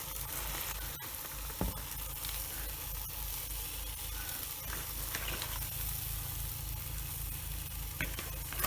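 Leafy greens hit a hot pan on a medium flame and sizzle loudly and continuously up close, with a few faint clanks of utensils and no talking.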